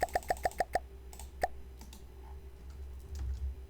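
Keys pressed on a computer keyboard during a building game: a quick run of about six crisp, evenly spaced clicks, then a single click after a brief pause, close and fairly faint over a low hum.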